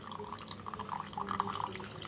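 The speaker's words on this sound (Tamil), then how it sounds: "இப்போது இந்த மாதிரி தண்ணி வடிஞ்சு வந்துடும்" Whey drips and trickles from fresh homemade paneer hung in a tied cloth, a soft, close, irregular patter of small droplets with no talk over it.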